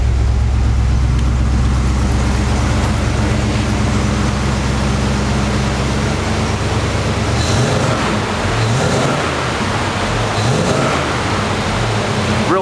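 A 1969 Chevrolet Camaro SS/RS muscle car engine idles with a loud, steady, deep rumble heard close up outdoors, continuous throughout with some wind noise.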